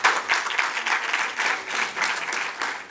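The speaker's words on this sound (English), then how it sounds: "Can we give them a round of applause?" Seminar audience gives a round of applause, a full, even wash of many hands clapping close and steady for the whole stretch.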